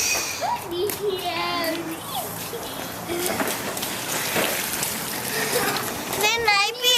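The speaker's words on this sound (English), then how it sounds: "Come on, kick the water here." Young boys splash and kick water in a puddle on a rainy day, with scattered wet splashes and patter under frequent children's chatter and an adult voice.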